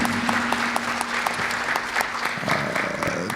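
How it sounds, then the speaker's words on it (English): Steady audience applause at a charter school board candidate forum, dense clapping from a crowd sustained throughout, fairly loud with a faint tone running underneath. "Give them a round of applause"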